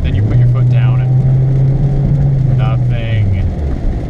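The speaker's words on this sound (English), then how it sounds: "I'm not hugely opposed to the engine note that this makes." A Ford Focus sedan's engine drones as the car accelerates, a steady low hum that holds its pitch and then sags slightly near the end while someone talks over it throughout.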